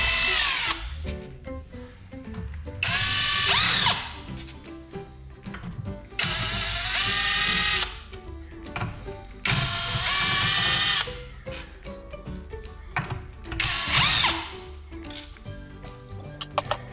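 A power drill or impact driver runs in several separate bursts of whirring as it backs out the six bolts holding the crankcase cover on a 6.5 HP Briggs & Stratton small engine, close by with quieter pauses between.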